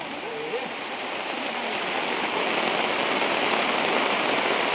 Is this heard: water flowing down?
yes